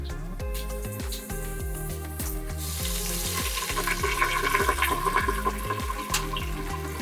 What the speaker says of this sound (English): And we will pour the broth right in.